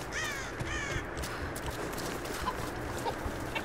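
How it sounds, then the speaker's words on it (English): Chickens cluck and squawk in a Tomb Raider video game, a few short bird calls near the start over a steady ambient game background, with no talking. "Lots of chickens, I mean."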